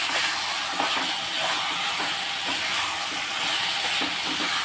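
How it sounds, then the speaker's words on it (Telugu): Onions with tomato paste frying in a pan give a loud, steady sizzling hiss that holds even and unbroken throughout, with no talk over it. "బాగా వేగిపోతుంది ఉల్లిపాయ"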